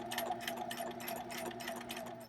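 A sewing machine stitches two parallel rows with a twin needle and contrasting thread colours, running as a steady, fast mechanical whir with a rapid needle rhythm, close and continuous with no talk.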